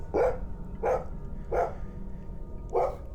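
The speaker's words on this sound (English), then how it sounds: "I had heard my dog barking." An English bulldog barks four times at an even, unhurried pace, moderately close, over a low background hum.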